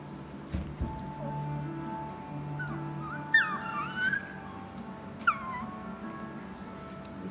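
Puppies in a kennel let out faint, high whimpers and short yips at scattered moments over a low background hum, with a few brief thumps.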